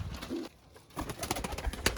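Pigeons kept by a breeder give short soft coos close by, a few brief low calls with quiet pauses between them over about two seconds.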